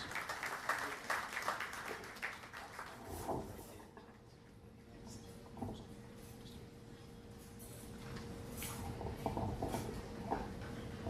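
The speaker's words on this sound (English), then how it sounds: "Mr. Aziz Baloch, give him a round of applause, please" An audience at a World Refugee Day event applauds a guest speaker, a faint, distant patter of clapping that swells, thins out midway, then picks up again.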